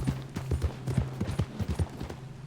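A horse named Buell trots in Red Dead Online, its hooves clip-clopping in a steady, close rhythm of quick, muffled beats.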